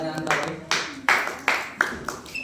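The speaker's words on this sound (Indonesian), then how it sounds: "tepuk tangan ya untuk pertanyaan tadi" Classroom applause for a student's question: a handful of sharp, separate claps at an uneven pace, close and fairly quiet, with each clap fading quickly and a little background murmur between them.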